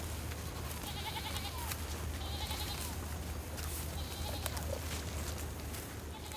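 Goats bleat a few times at a distance over a steady low hum and a rough outdoor background, with the short nasal calls coming and going.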